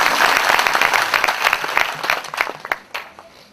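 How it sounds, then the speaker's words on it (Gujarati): An audience claps at a temple centenary festival in Bakrol, a brisk burst of many hands applauding together that fades into scattered, uneven claps over a few seconds. "જોરદાર તાળી"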